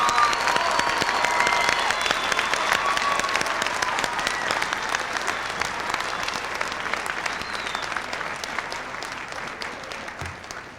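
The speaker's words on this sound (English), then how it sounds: "let's give a huge round of applause to a wonderful group" A graduation audience for the Art Institute of Seattle class of 1999 applauds the graduating class, a dense, sustained wash of clapping from a large crowd that holds steady for the whole stretch.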